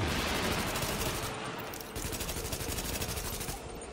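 Vector submachine gun from The Division firing in rapid, sustained automatic bursts, loud and close, with a brief pause near the middle before the dense rattling fire resumes.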